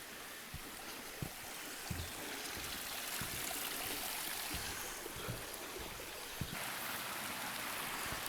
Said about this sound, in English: Track's down by the river now